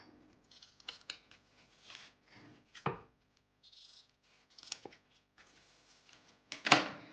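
Scissors cut fabric beside a zipper for a patchwork cushion in a series of close, soft snips and crunches with pauses between, ending in a louder cut.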